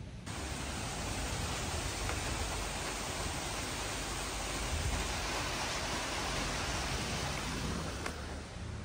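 Steady, dense hiss of rain falling outdoors in gloomy weather fills the scene, constant and broadband with no breaks and no talking.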